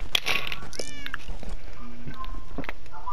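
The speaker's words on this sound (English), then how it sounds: "I am seriously talking to a Minecraft cat." A cat in the Minecraft video game gives several short, bright meows, mixed with a few clicking game sound effects.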